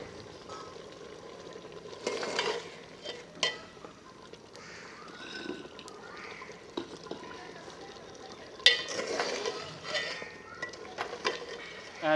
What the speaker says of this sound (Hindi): ऑयल शामिल करने के बाद तकरीबन 10 मिनट के लिए इसे भून लेंगे ऑयल में, आग को तेज़ करके